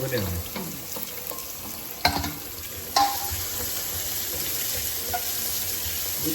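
Mushrooms fry in a pan for a Kerala mushroom curry, a continuous sizzle with stirring scrapes and a couple of sharper utensil clanks near the middle, fairly close and without talk.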